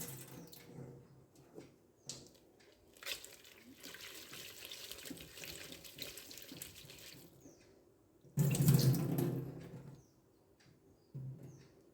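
Tap water runs into a sink while butter is washed for making ghee, a steady low splashing flow that swells into a louder, fuller gush near the end before easing off.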